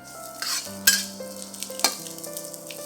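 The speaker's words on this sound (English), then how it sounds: "Fry them till the edges of the ginger turns slightly brown." Ginger and preserved whole black beans fry in a wok, a soft sizzle broken by a few sharp scrapes and clinks of a utensil stirring against the metal, with no voices.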